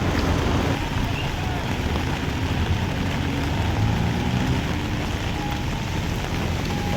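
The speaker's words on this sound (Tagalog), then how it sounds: "Dito may ulan pa rin." Steady rain hisses in a dense wash of broadband noise, mixed with wind and rumbling from a moving vehicle in flooding streets, with a voice faintly underneath.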